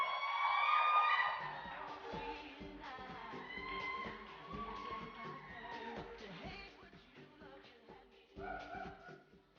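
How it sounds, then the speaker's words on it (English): Crowd cheering, whoops and yells at an awards ceremony, loudest at the start and then continuing more loosely with scattered shouts, with a voice heard among the noise. "Big round of applause, ladies and gentlemen."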